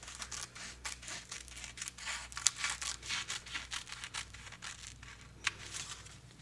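Scissors snipping through fabric while trimming a small piece for a tiny pincushion, a rapid series of close, crisp cuts and crinkles at moderate level with no talking.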